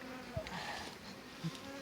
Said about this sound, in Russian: Снимай пчел.